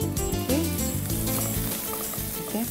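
Ginger, garlic and spring onion sizzle and spit steadily in hot oil in a pan, a continuous close frying hiss with music playing loudly over it.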